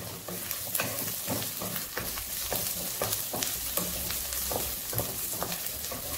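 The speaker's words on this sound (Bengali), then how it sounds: "এটাকে একটুখানি ভাজতে হবে।" Onion fries in a pan for a tangra fish jhal chochori, a constant gentle crackling sizzle with quick irregular spatula stirs and light clicks, low in level and without speech.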